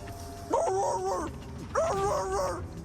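A police officer imitates a barking dog, giving two loud, drawn-out voiced barks close to the mic, each about a second long and separated by a short pause.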